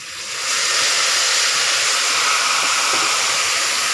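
Tamarind juice poured into a hot pan while cooking garlic pickle (poondu thokku), rising after half a second into a loud, steady hiss and sizzle that holds without pause, with no talking.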